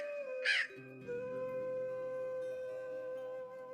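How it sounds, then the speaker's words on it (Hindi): A cartoon crow gives a single loud, harsh caw near the start, followed by sustained musical tones and background sound. "सैनिकों, पकड़ लो इस कालू कौवे को और कारागार में डाल दो।"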